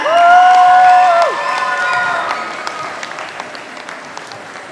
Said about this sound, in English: Please give them one more big round of applause to show them your love.